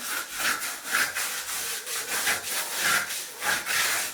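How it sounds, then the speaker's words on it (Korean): Wooden float rubbed back and forth across a fresh plaster patch on a wall, producing rhythmic, close scraping strokes, roughly eight of them in quick succession. "이거는이 고대로 나무 고대로 이렇게 나라지를 쫙 해줍니다."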